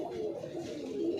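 Pigeons coo in a loft built of wooden cages with 20 compartments, a steady low murmuring from several birds close by, with no talking.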